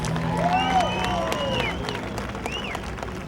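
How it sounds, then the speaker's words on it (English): Speedway fans at Ohsweken Speedway applaud Mitchell Brown's MiniStock feature win, a steady wash of clapping and cheering from the grandstand with a voice talking over it and tonal whistles or horns rising above the crowd. "Big round of applause for Mitchell Brown."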